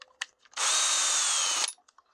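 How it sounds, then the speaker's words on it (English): A cordless drill gun bores into aluminum boat framing in one loud, steady whine lasting about a second, with small clicks and handling knocks before and after. "But I keep 2 drill guns, one for the drilling, one for the snapping"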